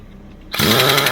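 An Earthquake air impact wrench bursts into a loud, close, continuous rattling hammer on a 1983 Marmon truck, starting abruptly after a quiet moment and running steadily.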